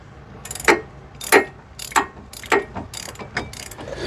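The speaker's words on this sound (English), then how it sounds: "tighten up the caliper mounting bolts" A hand ratchet tightens caliper mounting bolts during a 4x4 hub and bearing swap, giving about seven sharp, close clicking bursts spaced unevenly with brief pauses between strokes.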